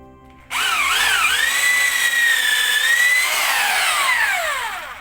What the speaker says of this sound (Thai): เดี๋ยวจะเจาะไม้นะครับ